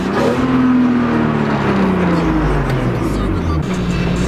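Freeway traffic heard from inside a vehicle: a loud, continuous engine rumble with a falling whine as cars pass close by, steady throughout with no talk over it.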